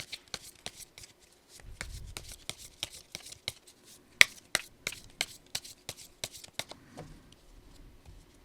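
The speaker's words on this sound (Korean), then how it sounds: "그래서 5장을 뽑아보도록 하겠습니다." Tarot cards shuffled and drawn by hand at close range, with a run of crisp, rapid snapping riffles followed by softer slides and taps as cards are laid out. No voices are heard.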